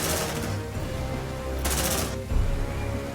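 Loud, sustained gunfire from marines in the video game Aliens: Dark Descent rattles in dense bursts, with a sharp swell of shots near the middle and no voices over it.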